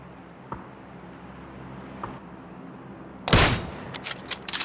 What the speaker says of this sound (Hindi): शायद दूर से कोई स्नाइपिंग कर रहा है